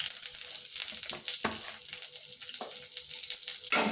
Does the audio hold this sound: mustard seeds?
yes